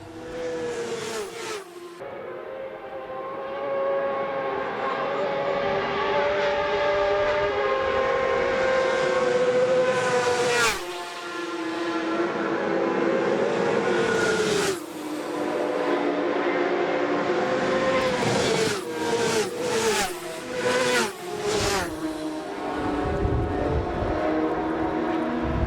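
Racing motorcycles at full throttle in the Manx Grand Prix 2009 Senior Race roar loudly and continuously past on a road course, engine notes rising and falling as several machines blast through in succession with sharp pitch sweeps.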